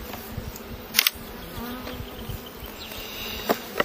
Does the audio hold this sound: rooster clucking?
no